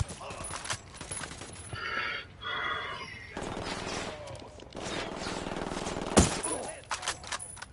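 Rapid bursts of gunfire in the tactical shooter Ghost Recon, with sharp shots scattered across the stretch and one loud crack near the end, mixed with game noise and brief voices.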